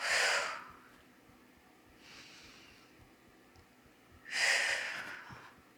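A person breathing in and out during a hip-mobility exercise: a strong exhale at the start, a softer breath midway and another loud exhale near the end, close and clear.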